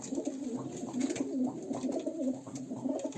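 Pigeons cooing in soft, repeated low warbles, several overlapping calls with a gentle rhythmic pulse, fairly close.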